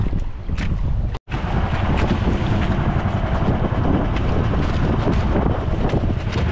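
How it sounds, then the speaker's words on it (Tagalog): Strong wind buffeting and roaring over rough sea aboard a fishing boat, loud and continuous with heavy wave wash and microphone wind noise, one brief dropout early on. "Ang lakas mga kasword, ang lakas. Ang laki ng mga alon."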